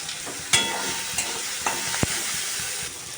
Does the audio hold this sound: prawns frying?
yes